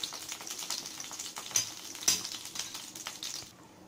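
Chana dal fries quietly in a pan over a low flame, a soft sizzle with small crackles and a couple of sharp ticks, fading out near the end.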